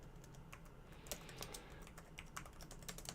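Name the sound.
typing on a premium custom keyboard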